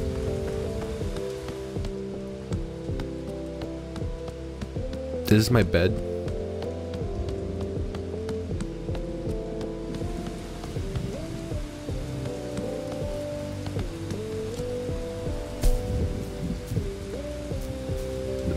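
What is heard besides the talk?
rain falling in the video game Bugsnax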